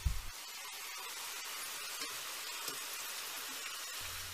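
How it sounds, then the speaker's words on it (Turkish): Potatoes fry steadily in a hot pan, a constant close crackle with a few faint pops and a soft knock at the start; no talking. "Patateslerimizin hepsini tavamıza dizdikten sonra alt kısmı hafif şöyle pembe renk alana kadar kızartıyoruz."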